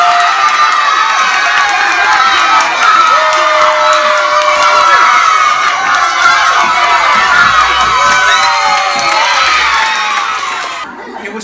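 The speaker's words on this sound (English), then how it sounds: "you're allowed to cheer as loudly as you want for Mrs. Brewer." Primary school children in a crowd cheer and shout loudly and without a break for a teacher during a timed stacking challenge. The excited din fades slightly at the very end.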